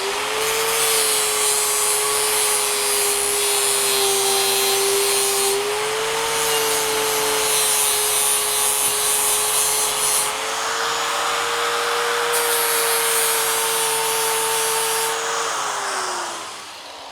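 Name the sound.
grinding a sloppy weld with a see-through abrasive disc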